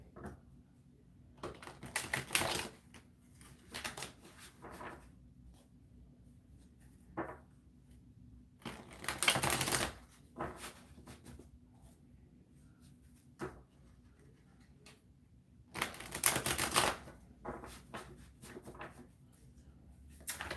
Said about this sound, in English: let's go ahead and pull some cards for you